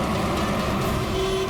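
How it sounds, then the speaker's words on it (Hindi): A sustained vehicle horn blares over heavy, rumbling traffic noise nearby during a jungle safari, holding steady for the whole moment. "अरे क्यों हॉर्न मार रहा है?"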